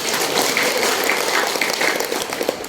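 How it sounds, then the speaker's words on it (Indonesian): A crowd claps and applauds at a political gathering, dense steady clapping that carries evenly through the whole stretch, with no voices over it. "tepuk tangan untuk nomor 2."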